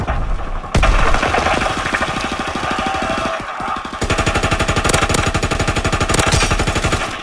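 Rapid, loud MG15 machine gun fire in Call of Duty WWII on PS4: long sustained bursts of evenly spaced shots, one near-continuous stream, a short pause, then another long burst.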